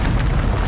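A Bombarda spell fires in a Hogwarts wizarding video game, a single short, loud, deep boom of a magical explosion with no talking.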